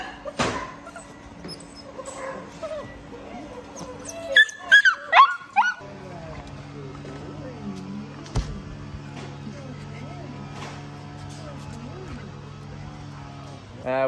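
Australian Shepherd puppies yip, whimper and bark in short, scattered bursts, close by and fairly faint, with a brief louder flurry midway.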